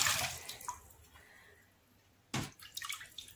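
Running water splashes while hand-dyed handspun yarn minis are rinsed, a loud rush at the start fading to a quiet trickle, then a second strong gush of splashing near the end.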